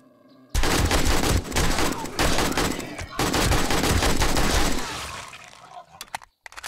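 Rapid bursts of gunfire in 7 Days to Die, fired at pigs, crackle loudly and almost without pause for several seconds, then thin out into a few scattered final shots.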